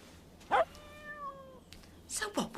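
A single drawn-out cat meow, close and fairly soft, bracketed by brief clicks and faint background sounds.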